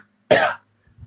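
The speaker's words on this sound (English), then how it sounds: "Sorry for the cough, but I am a little sick the last 2 days." A sick man coughs once, a single sharp, close burst in an otherwise quiet moment, followed by a faint low rumble.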